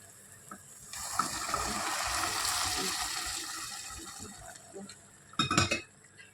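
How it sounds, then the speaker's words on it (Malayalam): Hot water gushes into a pot of mutton curry in a steady pour lasting a few seconds, followed by a sharp burst of a spoon clinking and stirring against the pot near the end. "അപ്പോൾ നമുക്ക് ഇതിലോട്ട് ഇനി ചുടുവെള്ളം ഒഴിച്ചു കൊടുക്കാം"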